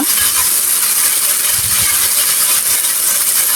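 Potato bhaji fries in a pan over medium-low heat, giving a loud, continuous close-up hiss and sizzle with faint popping underneath.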